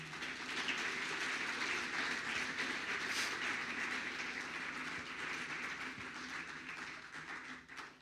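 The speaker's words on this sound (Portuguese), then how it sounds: "Você pode aplaudir a Jesus?" Church congregation applauding for Jesus during a sermon, a dense steady wash of many hands clapping that fills the room, holds loud for several seconds and thins out at the very end.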